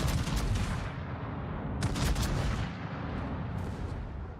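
Ship guns firing in the World of Warships video game, loud booming salvos with heavy low rumble, one burst after another with sharp cracks around the middle and end, no speech.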